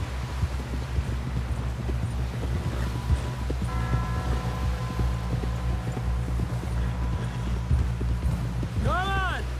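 Horse hooves in the Red Dead Redemption 2 video game, a steady clip-clop rhythm running throughout beneath a bed of game ambience and voices, with a brief horse whinny near the end.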